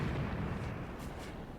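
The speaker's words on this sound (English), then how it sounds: "my artillery is coming in as well" Artillery fire in the WWII tactics game Graviteam Tactics rolls as a sustained, heavy low rumble of booms, dense and unbroken across the short stretch with no voices.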